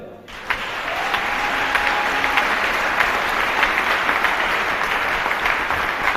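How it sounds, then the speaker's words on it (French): A church congregation breaks into sustained applause that swells within the first second and holds loud and dense, with faint cheering and voices mixed into the clapping crowd. "Acclame-les."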